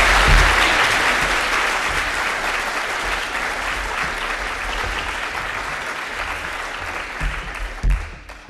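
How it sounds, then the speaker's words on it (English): Steady, dense audience applause at a Python conference talk, loud and sustained from the start and slowly easing off before tapering near the end, with no talk over it. "Let's give her a round of applause."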